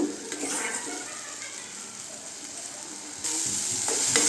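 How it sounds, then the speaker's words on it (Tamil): Tomatoes sauté in a pan for a dried anchovy (nethili karuvadu) thokku, giving a continuous loud sizzle and hiss with some stirring scrapes. The sizzle grows brighter near the end. "தக்காளி நல்லா பச்சை வாசனை போகிற அளவுக்கு வதங்கட்டுங்க"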